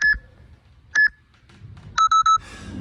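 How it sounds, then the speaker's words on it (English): Electronic workout timer during a 15-minute mobility and strength session, giving two single beeps about a second apart, then three quick beeps in a row, clear and close against a quiet room. "Listening for the timer now."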